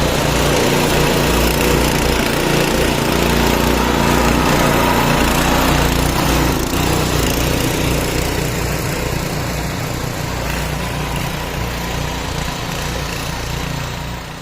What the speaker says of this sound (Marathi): आपण आता रेझरची अटॅचमेंट जोडलेली आहे आणि रेझरनं आपण सरी टाकायला चाललोय